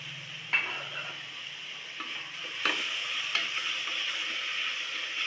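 Spoon stirring chopped tomatoes into sizzling ginger garlic paste in a pan for prawn biryani, a steady frying hiss with a few sharp utensil scrapes against the metal.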